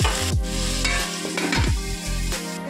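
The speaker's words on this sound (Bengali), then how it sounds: "এবার নেড়ে ছেড়ে ভালো করে ভেজে দেবো" Salted potatoes sizzle steadily in hot oil in a pan for a Bengali dish, with a spatula scraping and stirring them in several clear strokes, close up and without talk.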